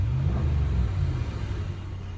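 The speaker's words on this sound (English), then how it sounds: "That garbage truck's loud." A garbage truck rumbles past, a loud, steady low-pitched roar that eases off slightly over about two seconds, with no voices.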